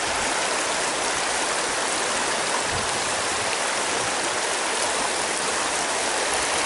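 A river choked with sticks rushes past in a steady, loud broadband wash, like continuous flowing water, with no pauses and no talking.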